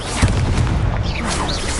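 A Reparo spell goes off in Hogwarts Legacy on PS5, a dense, loud magical whoosh and rumble with swirling high shimmer, filling the whole brief moment without speech.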